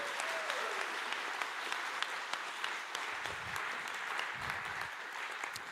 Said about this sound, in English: So please, a round of applause for Marieke.